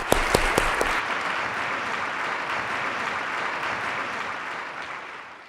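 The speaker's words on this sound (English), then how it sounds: "I suggest a round of applause for both speakers." An audience breaks into sustained applause for two speakers at a forum on relativism, beginning with a few sharp, close claps before settling into a dense, steady wash that gradually fades toward the end.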